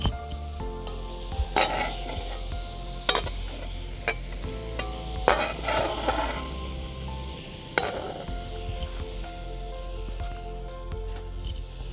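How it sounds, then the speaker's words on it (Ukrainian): Sizzling, stirring and scraping in a cauldron over an open fire as fried vegetables for borscht are scooped out onto a plate, with clinks and scoops, steady frying hiss underneath throughout. "Будемо її перекладати з казанка в тарілку окрему."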